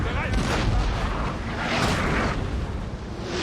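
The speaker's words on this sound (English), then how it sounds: "A couple of their crew got wiped out by that volley." Artillery cannon volley booming in Napoleon: Total War, a dense, sustained rumble of battlefield fire with loud bursts swelling around the midpoint, continuous and close.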